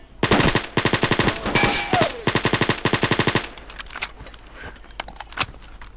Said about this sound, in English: I'm getting shot at and I don't know where that thing is.